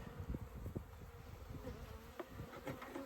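Honey bees buzz around an open hive during a spring inspection, a dense, continuous drone that sounds close but quiet, with no voices.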